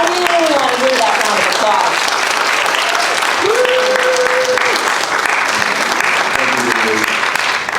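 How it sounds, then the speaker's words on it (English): Loud, continuous audience applause in a theater fills the whole stretch, with cheers and a few whoops rising above the clapping. "round of applause."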